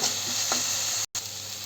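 Chopped onions with salt sizzling in a pan while being stirred, a steady close frying hiss with a brief scrape of the spoon, cut by a short dropout.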